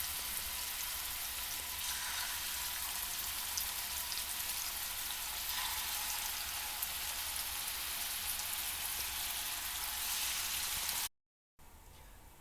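Steady, hissing sizzle of meat rolls frying in a hot pan, constant and close, cutting out abruptly near the end.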